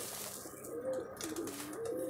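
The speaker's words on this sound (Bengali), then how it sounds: "এটা একটা অম্বশিয়া মাদা পায়রা।" A single Ambershiya high-flying pigeon, a female, coos softly in repeated low throaty calls, close and alone against faint background noise.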